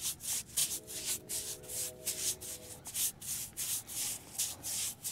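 Masonry brush spreading Anchorseal end-grain sealer onto walnut lumber, a repeated close scrubbing, swishing rub in steady strokes with a brief faint tonal squeak partway through, no talking.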